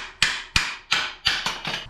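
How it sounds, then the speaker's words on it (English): Six sharp hammer strikes on a 1951 Ford frame during C-notching ring out in quick, slightly uneven succession, close and loud, with metallic clanks. "Where's my Thor hammer?"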